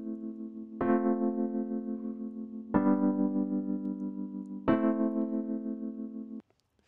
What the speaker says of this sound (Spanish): Este burly, cuando lo escuchamos por sí solo, es muy sencillo, son simplemente acordes de la parte armónica del track.